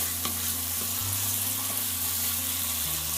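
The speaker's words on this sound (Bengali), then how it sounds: "তারপর আমি এগুলোকে মশলার মাঝে প্রথমে মিশিয়ে নিচ্ছি।" Chicken pieces are mixed into spice masala in a pan over a loud steady sizzle, with occasional spatula knocks and a low hum underneath, close and continuous with no talk.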